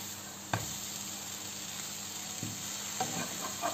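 Toasted bread browns in butter in a frying pan, a quiet continuous sizzle with a few soft clicks and knocks from the pan or utensil.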